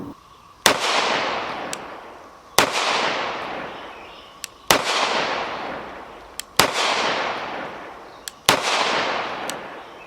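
Five sharp, loud gunshots from a PTR Archon B Gen 2 pistol, evenly spaced about two seconds apart, each a crisp crack followed by a long echoing decay outdoors, with no talking.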